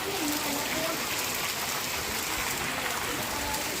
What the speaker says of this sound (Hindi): और एक बार फिर से तेज़ बारिश हमारे यहाँ लग चुकी है